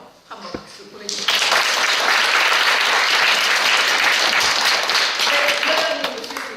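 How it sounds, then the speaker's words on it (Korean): After a brief spoken moment, an audience at a national university students' reading debate competition final bursts into loud, sustained applause, many hands clapping steadily before tapering slightly at the end. "그분들을 위해서 한번 박수 보내주십시오."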